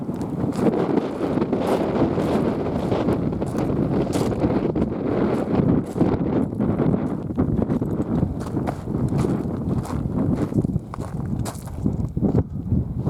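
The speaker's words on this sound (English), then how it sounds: "And also, it's pretty windy." Strong wind buffets the microphone in a continuous low rumble on a hike into Amboy Crater, a volcanic crater in the Mojave Desert, with scattered crunching footsteps underneath.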